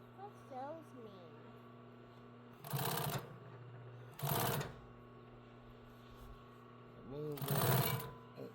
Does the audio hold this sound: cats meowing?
no